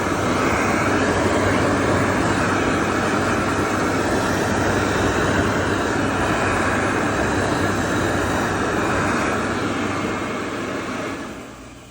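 A Bobrick Aircraft B-750 hand dryer at a school runs with a loud, steady roar of rushing air that holds evenly for about eleven seconds, then tapers off at the end.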